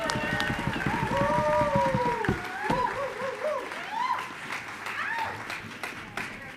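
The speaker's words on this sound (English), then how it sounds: "Let's have a round of applause for Shane." A crowd at the Oxford House World Convention 2022 claps, with whoops and cheers that fade after a few seconds into scattered clapping.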